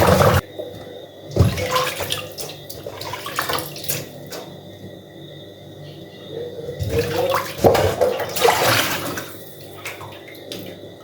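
Coconuts get a second wash in water, with splashing and running-tap sounds in uneven bursts, loudest near the start and again toward the end, and no talking.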